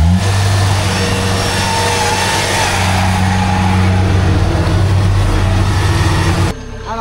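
A tracked harvester stuck in a flooded, waterlogged paddy field runs its engine hard, a loud sustained revving drone that continues unbroken, then cuts off abruptly near the end.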